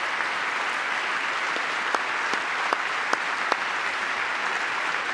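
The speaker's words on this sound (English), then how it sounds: "Are the Democrats clapping on him?" Members of Congress applaud during a presidential address to a joint session, a steady, even wash of clapping filling a large chamber, with a few sharper claps standing out.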